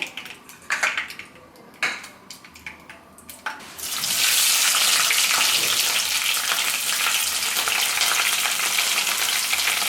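Cumin and mustard seeds dropped into hot oil as tempering for a biryani: a few spoon and pan clicks, then a sudden loud, steady sizzle that holds close and unbroken to the end.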